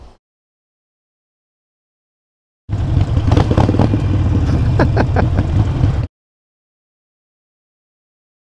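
Harley-Davidson Iron 883 motorcycle engine running loud and close for about three seconds with a deep, steady rumble and some mechanical clatter, cutting off abruptly into silence.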